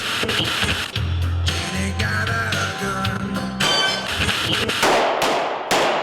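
Gunfire at a shooting range, with several sharp cracks and metallic clangs ringing out in a loud, irregular sequence, plus a further cluster of loud reports near the end.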